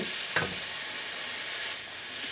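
Mushrooms sauté in avocado oil for a cream of mushroom soup, giving a steady, close hiss of frying with one brief clink of a utensil early on.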